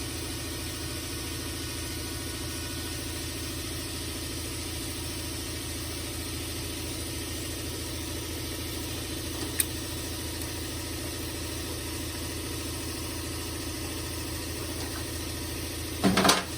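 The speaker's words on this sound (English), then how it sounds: "sorry about the air compressor" Air compressor running steadily during a leak-down test on a 1994 GSXR 750 motorcycle engine, a constant mechanical drone with no change in level and a brief knock near the end.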